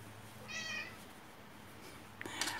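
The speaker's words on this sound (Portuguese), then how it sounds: "Minha gatinha tá pedindo comida." A pet cat gives one clear, drawn-out meow asking for food, fairly close and alone in a quiet room, with a brief rustle or higher sound near the end.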